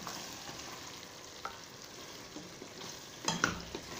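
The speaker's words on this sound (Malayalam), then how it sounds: "അപ്പോൾ നമ്മൾ ഇളക്കി കൊടുക്കുകയാണ്." Chicken being stirred in a pot while cooking for Arabian kabsa, a faint steady sizzle with soft scraping and a few light clinks of the utensil near the end.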